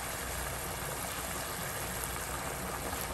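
Water poured into a pan of potato and pea masala for poori masala, a steady, even rush of liquid with a continuous hiss lasting the whole moment, close and uninterrupted, no voices.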